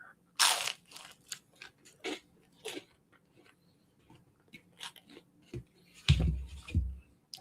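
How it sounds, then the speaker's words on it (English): Close, loud crunching bites of toast, a handful of crisp crackly bursts with pauses between them, the heaviest crunch near the end, and no talking. "Toast ASMR."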